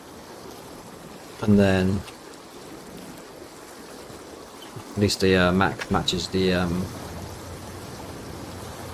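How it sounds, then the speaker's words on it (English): Loud, steady rushing water in a sawmill logging video game runs through the whole stretch as a constant broadband wash, with someone talking over it in two short bursts. "That water gets really loud when you cuts out like that."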